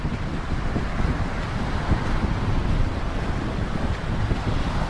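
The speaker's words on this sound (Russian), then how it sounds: "Смотрите, какая длинная коса, но очень большие волны." Large waves breaking along a long sand spit on the Black Sea coast near Zatoka, Odesa region, a steady roaring surf mixed with strong wind buffeting the microphone, continuous and loud with no voices.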